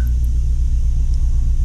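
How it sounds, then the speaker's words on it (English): A steady, loud low storm rumble fills a scene in the video game Life is Strange, continuous and unbroken, with no talking over it. "Oh wait, there's a storm."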